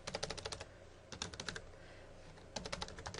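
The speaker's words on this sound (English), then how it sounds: "you can type out in the message box exactly what you want that to say" Fingers type on a computer keyboard in short, rapid bursts of close, clicking keystrokes separated by brief pauses, with no speech.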